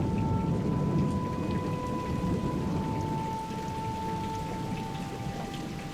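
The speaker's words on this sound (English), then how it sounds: "As if on cue, thunder crashes and the skies open. A storm over the marsh." Steady heavy rain pours over a marsh during a thunderstorm, with a continuous dense hiss and low rumbling thunder underneath, fading slightly toward the end.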